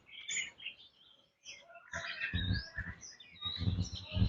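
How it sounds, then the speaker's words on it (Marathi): Birds chirp and tweet in a series of bright, close calls around a tiled village house in the Konkan countryside of Ratnagiri, with short pauses between the bursts. "पक्ष्यांचा सुद्धा छान किलबिलाट आहे."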